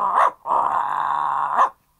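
A thin, hungry dog growling in a snarling burst with sharp onsets at the start and end, close and loud, alone with no talk.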